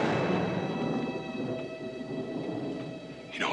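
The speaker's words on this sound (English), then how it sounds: "You know what that is? That's thunder." Low, heavy thunder rolls and rumbles continuously over a steady hiss, as a storm brews over dry ranch country. Near the end a faint brighter sweep rises over the fading rumble.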